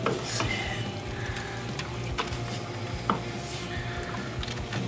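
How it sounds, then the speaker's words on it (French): Mash is stirred in a brewing pot while making a Kölsch beer, giving a continuous wet churning with occasional clinks of a paddle against the vessel and no talking. "C'est pour ça qu'il faut brasser, s'assurer que tout soit défait."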